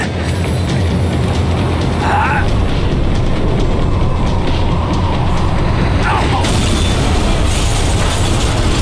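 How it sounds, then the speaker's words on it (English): A tram slowing down in the Max Payne 3 video game gives a loud, continuous rumble of wheels on rails with metallic clanks and ratcheting, plus two sharp squeals around the second and sixth seconds. "The tram was slowing down"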